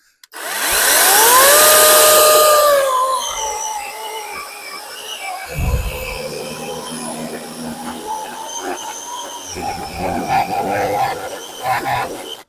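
A Grand APTs-40A cordless 1200 W chainsaw revs up loud and close as a high motor whine, then drops to a rougher, lower running sound with clatter and bumps as the chain stalls under load.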